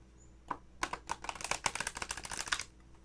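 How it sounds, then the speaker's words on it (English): A large Gospel of Aradia card deck is riffle-shuffled, giving one soft flick followed by a dense, rapid burst of crisp card clicks close to the ear, with no voices. "It's a little too large of a deck to shuffle this way, but I'm going to try"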